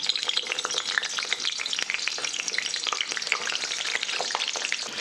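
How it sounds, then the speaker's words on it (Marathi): Eggplant pieces frying in hot oil make a steady, close crackling sizzle, dense with small pops and spits that run unbroken throughout, with no voices. "अशा फोडी करून घेऊ आणि वांगे तळून घेऊ एकीकडे"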